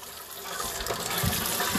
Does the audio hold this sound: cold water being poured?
yes